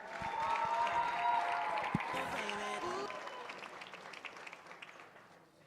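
Audience applause for a women's volleyball team at a university sports awards ceremony, a broad sustained wash of clapping from a crowd that swells early and slowly tapers off over several seconds.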